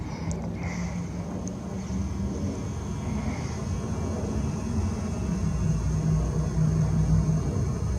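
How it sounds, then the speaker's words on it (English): A Delta jet airliner flies in to land at Palm Springs Airport as a steady, broad low rumble that swells slightly as it nears, heard outdoors at a distance. "there's a chemtrail plane coming in right here, flying into Palm Springs Airport"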